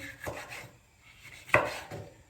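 A dull knife slicing food on a cutting board, two distinct cutting strokes with a pause between, the second louder and sharper, in a quiet kitchen.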